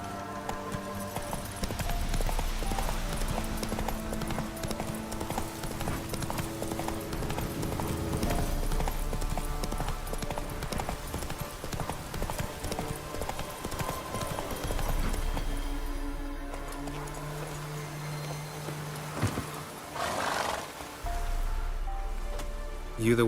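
Hooves of a horse in a video game clip-clop steadily at a gallop, loud and continuous over game music and ambient effects, with a brief lull near the end.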